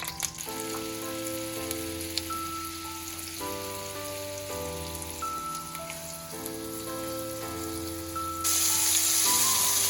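Flour-dredged chicken sizzles in melted butter in a pan, a steady, soft crackling hiss under sustained background music, growing a little louder near the end.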